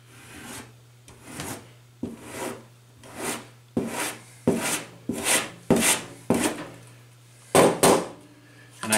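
A hand planer pushed across wood in a series of about ten rough, rasping shaving strokes, each a separate burst with short pauses between them, heard up close with no voices present.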